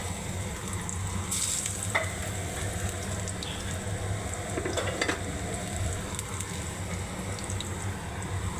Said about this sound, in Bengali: রসুন দিলাম, রসুন ভাজা,